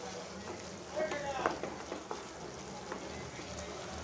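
Boiling water poured into roasting masala in a pan for Kerala-style grated nutmeg pickle sets off a soft, low sizzle with faint bubbling crackles, fairly quiet throughout.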